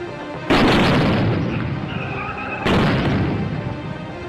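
A controlled blast goes off near a VIP car: two loud, broadband booms, one at the start and another about two seconds later, each followed by a long rumbling, debris-filled decay.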